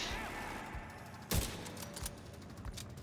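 Gunfire in a shooter video game mission against grenadier enemies, heard as a sharp, fairly faint burst of shots with scattered lighter pops around it over a low background hum, with no talk.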